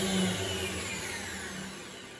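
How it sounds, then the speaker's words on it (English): Boards are fed through a wood planer, which gives a continuous, loud, close motor roar with a harsh cutting hiss that slowly fades over a couple of seconds. "I'm running boards through the planer."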